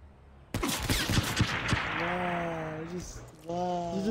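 Rapid gunfire in a first-person shooter match erupts as a quick burst of sharp shots, followed by ringing tonal weapon or game effects, with brief voice chatter over the noise.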